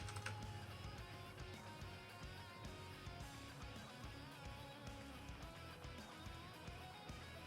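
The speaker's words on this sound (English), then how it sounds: "I do have a mechanical keyboard." Steady clacking of mechanical keyboard keys typed at a brisk, even pace, faint and continuous throughout.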